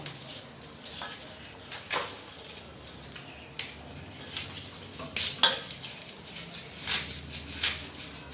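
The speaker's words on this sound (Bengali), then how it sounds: "এবার একে একে সবজিগুলো কেটে নেব।" Knife chopping Malabar spinach, potato and pumpkin on a board in a home kitchen, with repeated sharp cuts and light clatter at an uneven rhythm, fairly close.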